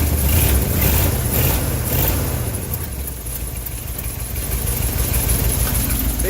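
Car engine idling steadily during a cold-start ignition tune-up, with a brief throttle tap at the start, then settling into a low, even rumble with constant vibration.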